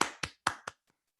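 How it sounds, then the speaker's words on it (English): Four sharp, close handclaps at a Toastmasters club meeting, evenly spaced and quickly fading to a faint final tap, with no other sound around them. "Let's give her a round of applause."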